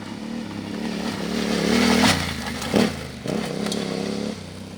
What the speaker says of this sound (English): Straight onto the K-Tech bike now.